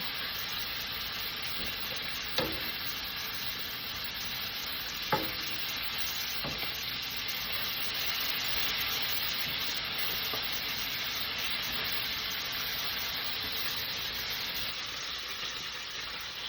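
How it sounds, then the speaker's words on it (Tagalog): Bacon sizzles steadily in a hot pan, a dense continuous frying hiss with a few sharp pops and stirring clicks along the way, close and fairly loud, with no voices. "Ingani ko magluto bacon, wala na yung mantika."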